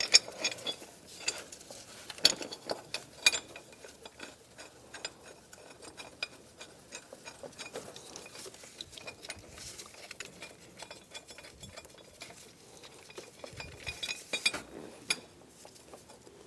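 Metal bracket and bolts clink and rattle while being fitted during a speed sensor replacement on a 1998-2010 Volkswagen Beetle: irregular close, sharp taps and clicks throughout, with no talking.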